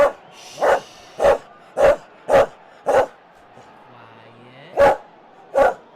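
A dog barks in a broadcast booth during a baseball game replay, seven loud, sharp barks in an irregular series with a short pause near the middle, close to the microphone and otherwise alone.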